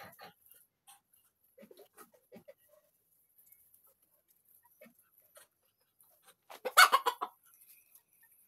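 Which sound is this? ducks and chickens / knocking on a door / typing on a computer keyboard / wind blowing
ducks and chickens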